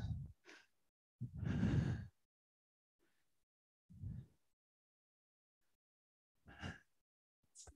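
Deep breathing during a yoga core exercise: a few slow, close inhales and exhales, one long breath out and several shorter ones, separated by near silence.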